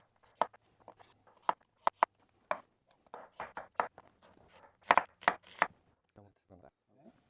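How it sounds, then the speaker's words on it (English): Radishes and onion chopped on a cutting board, a close series of sharp knife strikes, sparse at first and then quicker in short bursts, with no talking. "I'm going to chop them."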